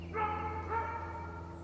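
A dog barks twice in quick succession, muffled and somewhat distant, over a low steady hum, with no talk during the barks.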